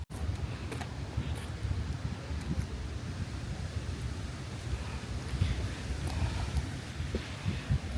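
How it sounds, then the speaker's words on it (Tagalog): Strong wind buffets the microphone at a high summit in Cheaha State Park, Alabama, in a steady, rumbling roar that runs unbroken throughout, with gusts swelling now and then. "Ay, sobrang hangin guys."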